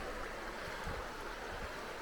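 A river flows beside a hiking trail on the Eastatoe Passage, a soft, steady wash of moving water heard from nearby, with light broadband hiss and faint low thumps and no talking.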